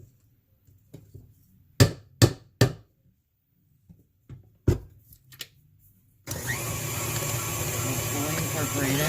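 Lemon loaf batter is mixed in a steady, continuous electric-mixer whir that starts partway through and runs loud to the end, after a few sharp clinks and knocks from the bowl and utensils.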